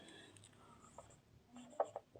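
Marker or chalk writing on a board during a maths lesson on vectors, a few short faint scratching strokes in a quiet room, with the last strokes a little sharper and louder.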